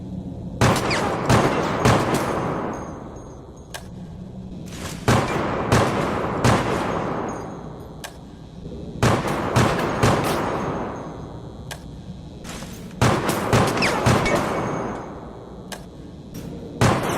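Handgun fire in the game Resident Evil: Operation Raccoon City, with sharp close shots in quick clusters of three to five separated by short pauses, each followed by a decaying echo and no talk.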